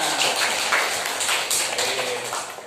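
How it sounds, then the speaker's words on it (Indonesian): Students in a classroom clapping their hands together, a quick patter of overlapping claps heard close and fairly loud for a few seconds. "Tepuk tangan buat semuanya."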